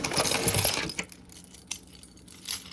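Car keys on a handmade keychain jangle in a bright metallic burst up close, then a few lighter clinks follow as they settle.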